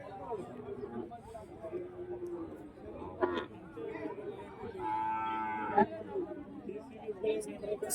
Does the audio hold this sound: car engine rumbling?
no